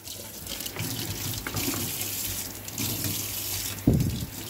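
Tap water runs steadily into a stainless steel sink, rinsing it with a continuous splashing hiss, ending with a brief louder splash near the end.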